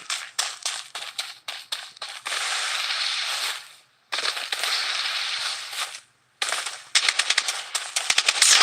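Gunfire in the shooter game Blood Strike, loud close bursts of automatic fire broken by short gaps, with rapid single shots at the start and end.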